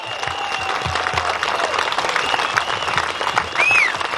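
Audience applause fills a hall, a steady dense clatter of many hands clapping at close range, with brief faint voices beneath it.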